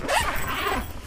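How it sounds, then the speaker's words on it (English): A zipper rasps open along the fabric window of a self-built overlander camper in one quick, close pull lasting about a second. "And on both sides also we have windows, so this part zips open"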